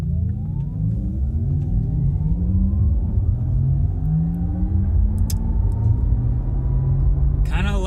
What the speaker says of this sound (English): it also turns on the electric sports sound